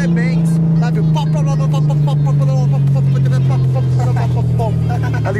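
Chevrolet Camaro convertible with the pops and bangs removed gives a steady, deep exhaust drone at a low idle, clean with no crackles, while someone talks over it close by.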